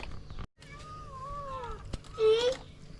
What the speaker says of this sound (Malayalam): ഇതൊക്കെ എവിടത്തെ പൂച്ചകള്?